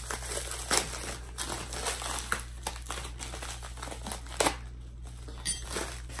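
Paper and bubble wrap packaging being unwrapped from a parcel, with bursts of close crinkling and rustling spread irregularly across the stretch over a quiet background hum, no talking.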